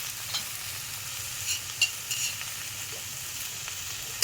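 Cumin and black pepper paste sizzles with prawns in a pan over a clay stove, a steady frying hiss broken by occasional scrapes and stirs, close and alone without talk.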